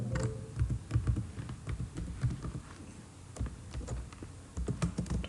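Someone types on a computer keyboard nearby in quick, irregular bursts of soft keystrokes, with no talking over them.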